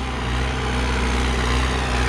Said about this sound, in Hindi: और तो ये ट्रैक्टर चल रहा है फिलहाल